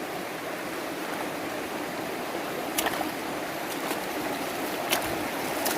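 A river flows steadily during a trek along its course, a continuous broadband rush of moving water with a few brief splashes or knocks standing out near the middle and end.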